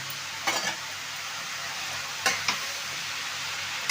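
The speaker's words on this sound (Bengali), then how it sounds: "দিয়ে দেবো একটু নুন দিয়ে ভালো করে নেড়ে চেড়ে নেব" Bottle gourd with green chili, turmeric and salt is stirred in a pan, a soft steady sizzle punctuated by several brief scraping strokes of the spoon, nobody talking.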